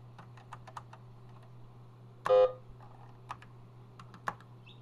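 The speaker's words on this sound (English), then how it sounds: "I'm punching keys and I don't know." Individual keys are punched on a Sanyo MBC 555 computer keyboard: scattered sharp clicks with gaps, one louder clattering press mid-way, over a constant low machine hum, close and without talk.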